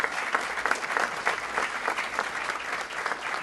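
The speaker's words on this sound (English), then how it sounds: "A round of applause for them putting this event together." Audience applause at a city State of the City event, a steady burst of many hands clapping at moderate distance, with no speech over it.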